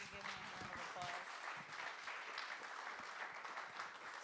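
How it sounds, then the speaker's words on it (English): An audience claps steadily throughout at a storytelling gathering, a dense, even patter of applause with a few voices talking faintly underneath near the start. "Give me a round of applause."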